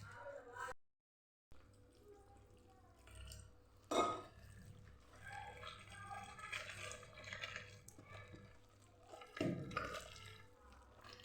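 Water is poured into besan batter for vegetable pudla in a home kitchen, giving quiet, brief splashy pours in two short bursts amid soft handling noises.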